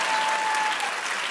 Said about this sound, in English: Y'all better clap for Nick Cannon.